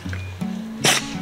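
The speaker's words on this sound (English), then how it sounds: "He sneezed in my eye." A single sharp sneeze from a person bursts out close by in a home kitchen, over a low steady hum.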